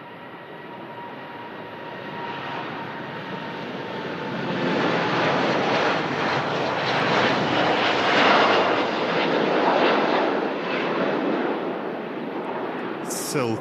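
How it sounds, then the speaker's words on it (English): A Gulf Air jet taking off for Bahrain, its broadband engine roar swelling steadily louder over several seconds and holding strong near the end. "Gulf Air out to Bahrain."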